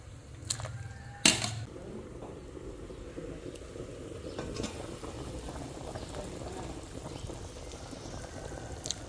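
Oxtail soup with lime leaves bubbling in a pot, a faint, steady low simmer with a couple of sharp clinks near the start and light background noise.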